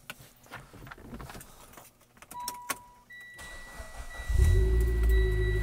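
A few clicks and electronic chimes come before a 2015 Mitsubishi Lancer Evolution engine cranks and catches, then settles into a loud, steady rumbling idle close by.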